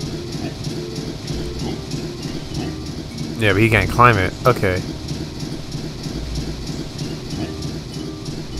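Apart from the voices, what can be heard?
Chuffy the Train moving in video game Banjo-Tooie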